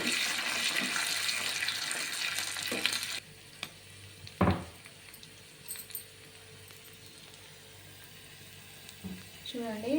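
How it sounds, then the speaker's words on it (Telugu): Loud crackling sizzle of tempering spices frying in oil for gongura dal at first that abruptly drops to a quieter fizz, with a few clanks and stirring knocks, and a brief voice near the end. "ఇప్పుడు పోపు మంచిగా వేగింది దీన్ని పోపు వేసేసుకుందామండి"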